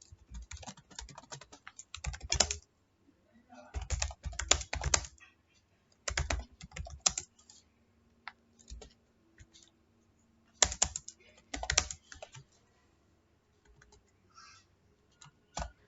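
Typing C code on a computer keyboard, with bursts of rapid close keystrokes separated by short pauses, crisp and clear without any talking.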